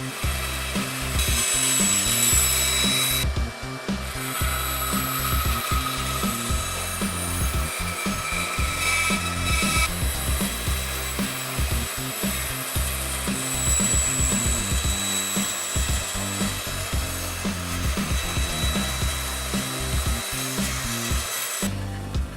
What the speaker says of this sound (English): When I cut these out on the bandsaw, I first did a rough cut just to detach the pieces from the piece of wood